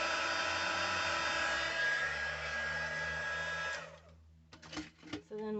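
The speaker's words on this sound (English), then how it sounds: "So you just want to emboss this until you see it go shiny" A heat embossing tool blows hot air over floral art being gold-leafed, a steady close whirring roar that cuts off near the end, followed by brief clattering handling sounds.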